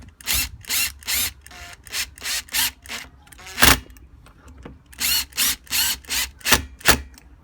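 A power screwdriver tightens screws on a whipper snipper during a fuel-line repair, giving a series of about a dozen short, close, buzzing bursts separated by brief pauses.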